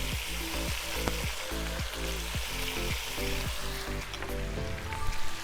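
Pork ribs sizzle and fry steadily in a kazan with dry adjika, salt and spices, a continuous close crackle with repeated soft clicks of stirring or turning throughout.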